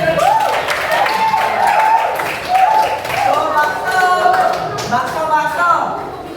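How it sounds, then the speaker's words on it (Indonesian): A classroom group applauds a student, with brisk clapping running steadily through the whole stretch and voices mixed in underneath. "Ya boleh tepuk tangan buat Aisman."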